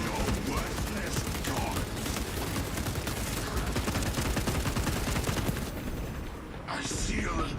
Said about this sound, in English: Just don't stop shooting